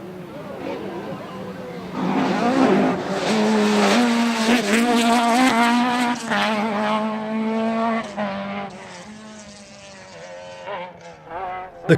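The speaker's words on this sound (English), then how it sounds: "The car is geared for 150 miles per hour, and as we see here, every time the gear display flickers red, that is flat out." A rally car driven flat out on a closed stage of the 2008 Tour of Mull Rally, its engine howling loud and close as it climbs through rising revs with brief lifts between gears, a voice speaking over the roar throughout.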